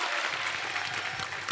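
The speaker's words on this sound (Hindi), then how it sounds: "सो जोरदार तालियां।" Studio audience at a comedy talk show claps for arriving guests, a brief, fairly faint but steady wash of many hands heard from a distance.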